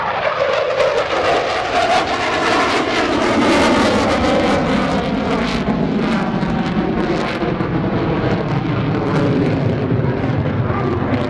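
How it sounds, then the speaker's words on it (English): An F/A-18F Super Hornet jet flying a demonstration at the 2017 NAS Oceana Airshow, a loud continuous roaring rush of jet engine noise that slowly shifts in tone as it passes. "demonstrates the flight control capabilities of the Super Hornet"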